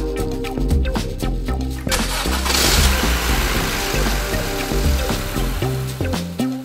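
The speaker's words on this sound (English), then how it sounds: "we'll let the engine run for about 30 seconds" Honda Civic engine running after an oil change, a steady close idle rumble with a brief rise in the middle and no talking.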